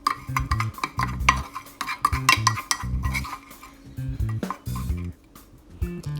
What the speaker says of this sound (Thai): เสร็จแล้วปุ๊บเราจะใส่ข้าวคั่วค่ะ ประมาณครึ่งช้อนนะคะ คลุกเคล้าให้เข้ากันค่ะ